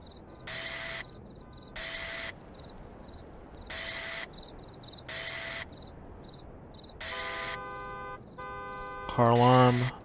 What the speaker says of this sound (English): find a way to disable the car alarm